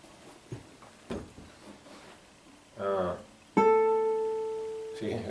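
Classical guitar note plucked with the fingernail at the sweet spot, a bright sustained ringing tone that decays slowly, close and clear, following some talk and an earlier softer pluck.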